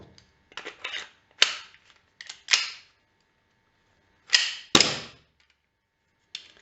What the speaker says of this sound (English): you should check the cycling of the gun again